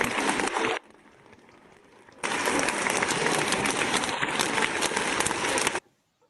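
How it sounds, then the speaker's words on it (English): A crowd claps after a presentation, a dense crackling burst that drops away briefly, returns loud and sustained for several seconds, then cuts off abruptly. "let's give a round of applause to Natalia."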